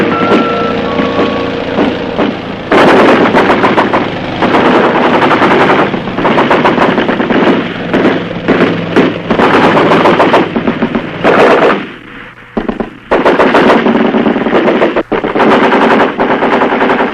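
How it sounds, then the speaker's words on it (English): Heavy, loud machine gun fire in a military film about Army air mobility against North Vietnamese troops, long rattling bursts with brief pauses and scattered heavier blasts over a steady engine rumble. "Greeted by well-disciplined fire from North Vietnamese army troops"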